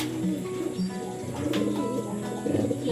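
Racing pigeons cooing in a loft, soft repeated low throaty coos overlapping one another at close range, with faint background rustle.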